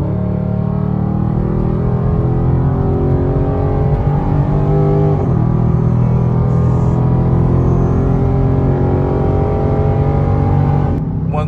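Dodge Charger Scat Pack with the mid muffler deleted pulls hard from about 60 mph, its loud, throaty exhaust rising steadily in pitch through the gears, with a brief shift dip midway and continuous close-up engine roar.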